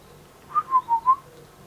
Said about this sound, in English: there's lots of birds outside.